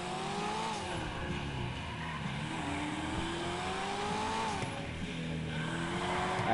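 Maxed-out undercover police car cruising in GTA offline, a steady engine drone with gliding pitch shifts as it accelerates and eases off, continuous and fairly close throughout.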